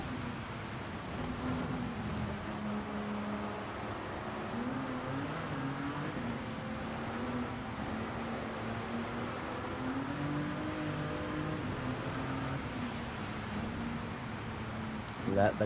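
Racing car engine at Spa in Gran Turismo 7, a steady, droning hum that holds fairly level throughout with slight pitch wavers as the car rolls on, with speech present over it.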